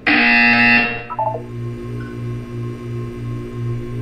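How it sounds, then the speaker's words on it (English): A buzzer in the Portal 2 video game sounds in a steady run of repeated low pulses, after a brief burst of bright tonal chimes at the start; loud and close with no talking. "You will hear a buzzer."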